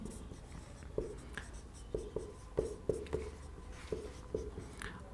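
Marker or chalk strokes on a board during a civil engineering lecture on concrete, a run of short scratchy taps and squeaks spaced irregularly across several seconds, fairly close with no voice over them.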